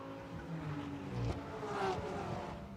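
Several GT race cars pass by in quick succession at Road Atlanta during a GT America race, their engine roar rising and fading at a distance, fairly faint overall.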